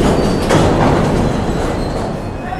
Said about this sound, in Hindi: और यहाँ पे हमारी ट्रेन का जो लोकोमोटिव है ना,